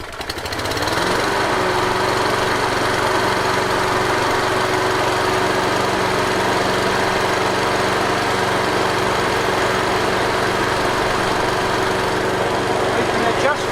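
A Victa Ultimate lawn mower engine starts with a brief rising catch, then settles into a loud, steady, continuous running drone close by for the rest of the stretch.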